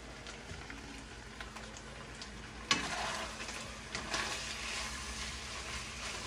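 Beef browning in oil in a pan gives a continuous low sizzle, with a sharp clack of a utensil partway through after which the frying grows a bit louder and busier.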